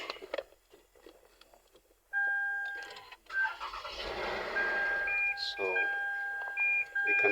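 A Lexus ES350 engine cranks and catches after push-button start with an emulated key, then runs with a steady rumble while electronic dashboard beeps chime; a voice talks briefly at the start.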